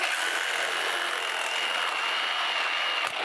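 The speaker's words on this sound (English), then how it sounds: "we cut the oil filter in half." A tool saws steadily through an oil filter, cutting it in half, a continuous close, hissing rasp that holds even throughout and ends with a brief clunk.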